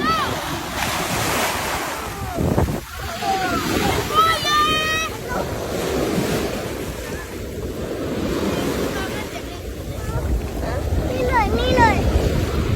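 Sea waves wash and surge continuously at a beach, with strong wind buffeting the microphone, water sloshing close by and a voice and other chatter heard intermittently.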